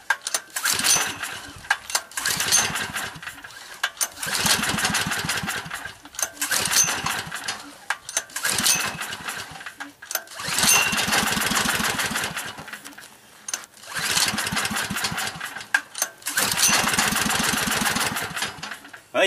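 A small generator engine running on wood gas repeatedly sputters and fires in rough bursts of rapid chugging, starting and dying away in several uneven surges, loud and close.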